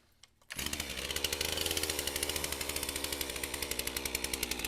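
A Stihl MS 362 pro chainsaw starts with a brief pull and roars to a loud, steady high-revving run while bucking limb wood for firewood, close by, with a rapid pulsing engine note and no talk.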